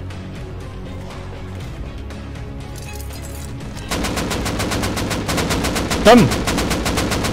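Rapid automatic gunfire in the survival video game Rust, starting distant and muffled, then becoming a loud, steady stream of close shots with one louder impact near the end, while players talk briefly over it.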